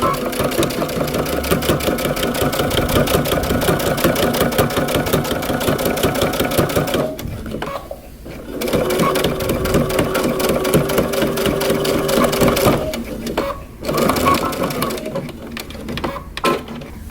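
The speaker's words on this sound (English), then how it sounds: "we're going to top stitch 1/4 inch from the fold" Sewing machine top stitching a coat flap, a rapid rhythmic clatter of needle strokes up close, stopping briefly twice before resuming, with a voice speaking over parts of it.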